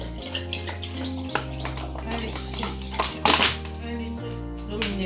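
Mineral water poured from a bottle into a container for making water kefir, a gurgling, splashing stream with glugging pulses and a few sharper splashes, heard close under a person talking in French.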